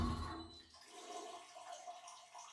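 A toilet flushing in the video game Death Stranding 2, a gurgling rush of water that fades into a softer trickle and light splashing.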